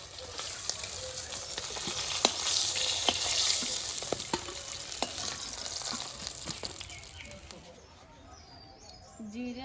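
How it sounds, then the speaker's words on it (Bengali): Fish frying in hot oil in a home kitchen, a steady dense sizzle with occasional sharp crackles and pops, fairly close, while a voice talks over it and birds chirp faintly in the background; the sizzle cuts out near the end. "মাছ ভাজা হয়ে গেছে, মাছটা তুলে নেব"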